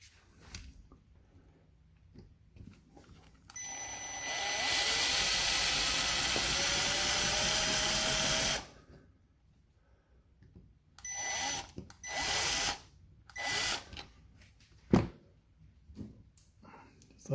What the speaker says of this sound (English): let's go ahead and drill that rivet out